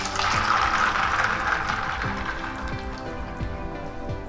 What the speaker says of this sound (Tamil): நல்லா கொதிக்கிற சுடு தண்ணி ஊற்றிக்கணும்.